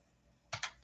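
Two quick, quiet key clicks from typing on a computer keyboard, closely spaced, with a faint third tap after, in a still room.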